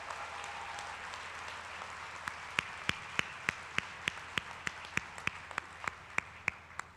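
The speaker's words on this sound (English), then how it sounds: "Can we give him another round of applause" Applause from a crowd at a college graduation ceremony, dense at first, then thinning into a handful of sharp, evenly spaced claps that continue steadily to the end.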